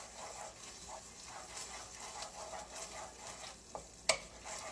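Spoon stirring a pot of southern chili after tomato paste goes in: a soft, continuous scraping and swishing with gentle sizzle, moderately close, punctuated near the end by a couple of sharp clinks against the pot, no voices.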